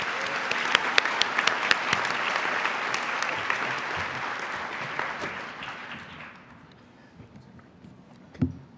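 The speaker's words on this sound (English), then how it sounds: "give yourselves another round of applause for being here today" An audience at a student scholars meeting applauds in a dense, sustained round for about six seconds before the clapping thins and dies away, with a single sharp sound near the end.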